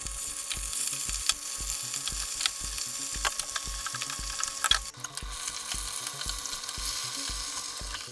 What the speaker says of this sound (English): Pour in your oil and let it get hot, and then you can start frying your fish.